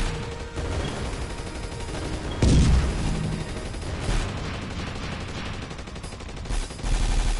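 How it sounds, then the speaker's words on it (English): Continuous rapid gunfire from the PSVR shooter game Drone Striker, played with the Aim Controller, pours out as a steady dense stream with one heavier blast partway through, loud and unbroken. "I do like that I can just hold the button and shoot forever"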